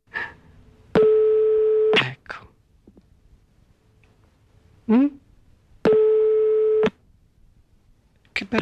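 Telephone busy tone after hanging up: two long, steady beeping bursts, each about a second, separated by clicks and a short spoken word.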